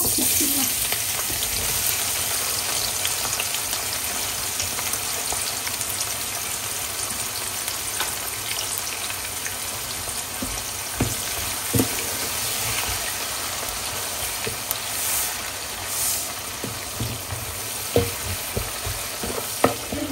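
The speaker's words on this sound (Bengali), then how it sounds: "এখন যেই তেলে মাছ ভেজেছিলাম সেই তেলে আমি পেঁয়াজ আর রসুন দিয়ে দিব" Onion and garlic fry in oil left over from frying fish, a continuous close sizzle and crackle throughout with occasional louder stirring scrapes and bubbling bursts, no talking.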